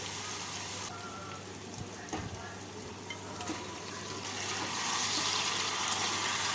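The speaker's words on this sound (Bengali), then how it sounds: "মশলাটাকে ভেজে নিলাম এবার এর মধ্যে সেদ্ধ করে রাখা মাংসটা দিয়ে দেবো" Boiled mutton and its cooking liquid poured into fried spices in a pan for a red mutton curry: a soft sizzle and watery splashing and pouring that swells louder toward the end, moderately close.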